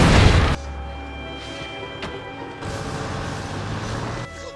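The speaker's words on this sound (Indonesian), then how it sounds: "Ben dan Riley berhasil selamat dari ledakan yang terjadi" A loud explosion aboard a ship in a treasure-hunting adventure film bursts at the start, then cuts to a lower rumbling, mechanical movie soundtrack with a sharp crack midway and swelling noise.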